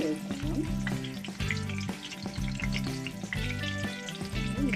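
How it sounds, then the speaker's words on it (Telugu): Stuffed brinjals frying in hot oil for a Telugu gutti vankaya and peas curry give a steady close sizzle with a few sharp crackles and pops. A dense musical backing plays throughout, and nobody speaks. "గుత్తి వంకాయ కూర అంటే ఆయిల్లో వేగుతుంది కదండి"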